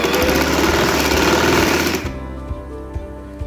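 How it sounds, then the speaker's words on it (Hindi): A sewing machine double-stitches the crotch seam of a pair of trousers, a fast, loud, steady mechanical chatter for about two seconds, then stopping with a few soft clicks after. "ये यहाँ से सारे क्रॉच एरिया से डबल सिलाई लगा लेंगे।"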